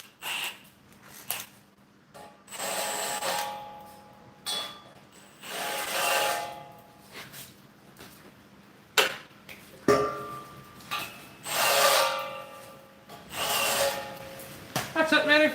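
Holes for rivet nuts are countersunk with a hand tool, giving a series of irregular scraping, ticking bursts with short pauses between them.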